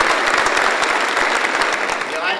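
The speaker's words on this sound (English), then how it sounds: "let's give them a round of applause" An audience at a state superintendent's inauguration claps for students, a close, dense burst of steady applause with a voice heard over it.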